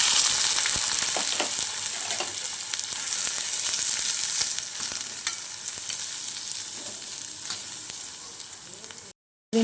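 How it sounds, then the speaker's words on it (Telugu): Chopped onions and green chillies fry in hot oil with cumin seeds in a kadai, a loud, steady crackling sizzle that runs for several seconds with occasional stirring clicks before cutting out briefly at the end. "ఆనియన్స్ లైట్ బ్రౌన్ కలర్ వచ్చే వరకు వేయించుకుందాం"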